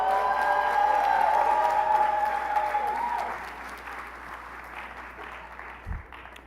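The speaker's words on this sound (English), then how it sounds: "Let's everybody give a huge round of applause." Audience applause at a business school hooding and recognition ceremony, a loud wash of clapping with a sustained whoop that fades over a few seconds into quieter scattered claps and room noise.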